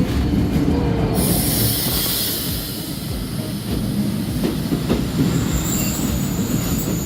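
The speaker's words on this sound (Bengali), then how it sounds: "ফাইনালি আমাদের ট্রেন চলে এসেছে" A train pulls into a station, its wheels rolling and clattering close by in a loud, continuous rumble, with high metallic wheel squeal running over the rail noise.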